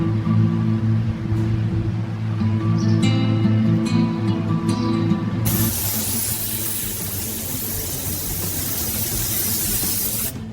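A spray gun lays primer onto the body of an abandoned 1969 Camaro, a loud, steady hiss starting midway and continuing, preceded by a running engine hum and faint tapping.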